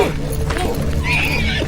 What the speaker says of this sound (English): That's my Uncle Benjamin's horse.